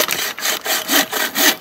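A CRKT wilderness folding saw cuts through wood in quick, rhythmic back-and-forth strokes, loud and close, about six rasping passes with no speech.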